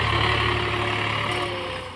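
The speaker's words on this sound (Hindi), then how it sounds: "ट्रैक्टर चलता है ना तो बहुत अच्छा लगता है" A tractor engine runs steadily during maize sowing, a loud, close, continuous droning rumble with no break, fading slightly toward the end.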